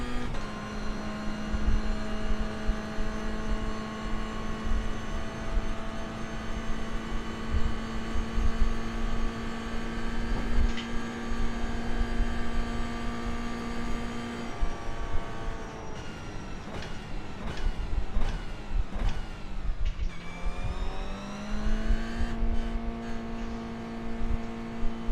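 Race car engine during a lap in iRacing, a loud sustained whine at steady high revs, then rapid downshifts with rising and falling pitch sweeps and a short dip before climbing again, alone with no talk.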